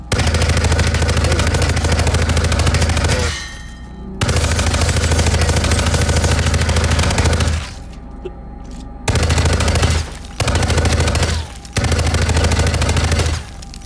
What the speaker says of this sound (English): one of the cheats allows me to basically shoot infinitely